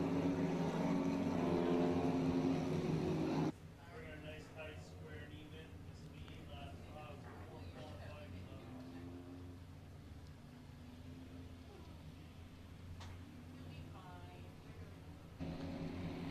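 Race car engines at a racetrack, heard as a faint, steady engine drone from a distance that carries on throughout, with a brief louder stretch at the start.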